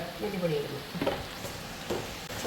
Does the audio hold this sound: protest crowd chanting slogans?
no